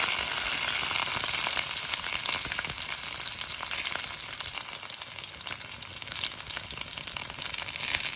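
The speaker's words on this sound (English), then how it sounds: "mustards spluttering. I'm adding green chilies now." Mustard seeds splutter and crackle in hot oil with green chilies and curry leaves frying in a pan, a dense, loud, close sizzle with rapid popping throughout and no talking.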